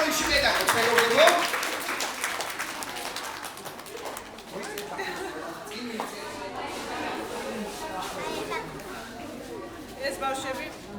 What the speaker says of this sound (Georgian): ტაში დაუბრუნდეთ პირველ რიგში პედაგოგს მეგობრებო